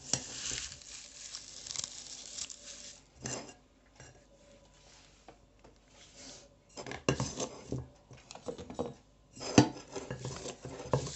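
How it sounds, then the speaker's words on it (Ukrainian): Repeated crisp snipping and rustling as scissors cut dry onion skins into small pieces, close by, in irregular bursts with short pauses, no voices. "Я її просто ножицями нарізаю на дрібні шматочки."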